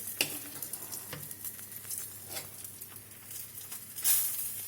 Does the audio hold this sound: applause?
no